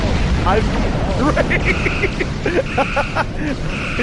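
Explosions in a Star Trek video game: repeated booming blasts and rumbling under game sound effects, with beeping electronic tones and chirps layered over the constant noise.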